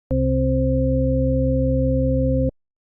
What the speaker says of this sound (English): I created a more unusual 4-note chord of just octave steps from C2 to C5 and a not very appealing simple sine wave